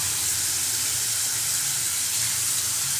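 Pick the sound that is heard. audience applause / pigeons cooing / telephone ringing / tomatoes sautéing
tomatoes sautéing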